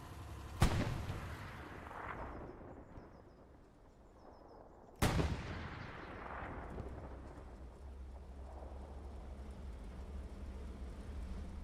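Heavy tank-directed gunfire in the World War II shooter Hell Let Loose: two booming cannon-like shots a few seconds apart, each with a sharp crack and long rumbling tail over constant engine and battle din, with no voices.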